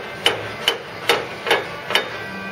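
Five sharp metallic hammer taps on a car body panel of a Cortina GXL under restoration, lining up a butt weld gap, evenly spaced at about two per second and close by.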